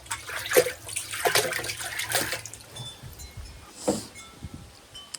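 Roughly 20 gallons of water poured into a tub to make a pickling bath for a bear hide, heard as a few splashing dumps and gushes, the loudest early on and another burst near the end.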